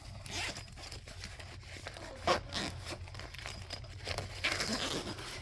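A zipper on a personal medical bag is pulled open in several short rasping strokes, close up, with a louder zip near the middle and rustling between pulls.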